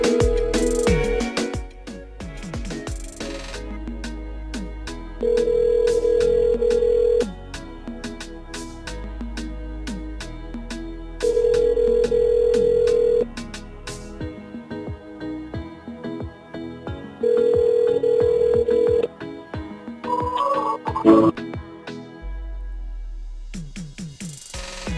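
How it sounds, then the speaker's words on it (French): A telephone line rings during a radio call-in show, with three long, steady ringing tones spaced evenly apart over background music. "Est-ce qu'elle décroche son téléphone?"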